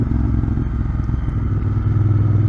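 Moto Guzzi Griso motorcycle engine with a modified exhaust, loud and close, a deep throbbing rumble with a continuous low-pitched pulsing and no change in pace over a few seconds.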